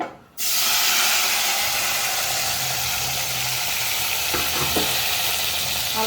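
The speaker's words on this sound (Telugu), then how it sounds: "నేను ఇప్పుడైతే టమాటాలు వేసేసుకుంటున్నాను" Tomatoes hit hot oil in a pan for a dried red chilli and tomato chutney, setting off a sudden loud, steady sizzle that carries on without a break, with a few faint clinks from the pan.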